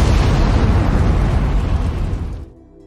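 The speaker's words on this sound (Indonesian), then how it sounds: "salah satu anak buah Orlin melempar granat yang membuat ledakan cukup besar." A grenade blast during a film battle scene erupts as a loud, deep rumbling explosion that roars for a couple of seconds before cutting away to near silence.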